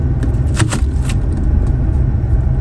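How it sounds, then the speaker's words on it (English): A car backing up outdoors on a cold day with smoke coming from the exhaust pipe, its engine a steady low rumble close by, with a few faint jingling clinks early on. "Let me back my car up this way."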